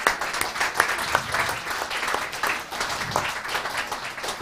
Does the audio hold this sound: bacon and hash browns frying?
no